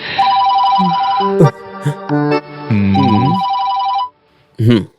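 An old-style telephone bell rings loudly in repeated bursts, then stops, with a short sound returning at the end; no speech over it.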